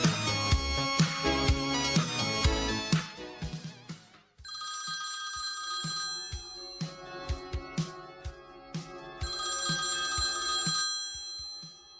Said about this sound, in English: Answer the phone, Dula.